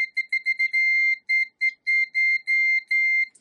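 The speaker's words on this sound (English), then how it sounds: "So now if we touch these together, it should beep." A ZOYI ZT-102L multimeter in continuity mode gives a clear, high electronic beep. It starts as a stuttering run of short chirps as the probes make and break contact, then settles into longer sustained tones, with no talking.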